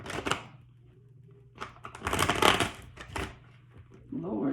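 Cards of a tarot deck shuffled in short bursts, papery riffles and taps starting and stopping, close by, with a voice speaking quietly between and over them.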